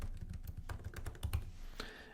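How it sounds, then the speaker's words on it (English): Fingers type quickly on a computer keyboard while entering a note, a steady patter of soft key clicks with a few sharper taps, close and alone. "you have the option to immediately start typing a note"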